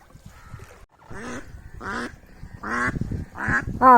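Several loud, nasal duck quacks come in a rough series near a boat in Kerala, growing louder toward the end, close by and mostly alone apart from faint low background noise.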